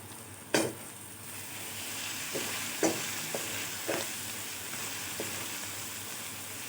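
Green chilies cut lengthwise hit roasted spices in a pan, giving a steady soft sizzle and frying hiss with a few sharp stirring clinks and scrapes, close and fairly quiet.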